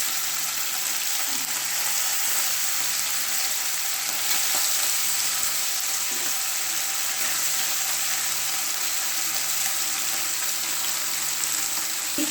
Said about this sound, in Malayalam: ഇനി നമുക്ക് ബീഫ് ഇട്ട് കൊടുക്കാം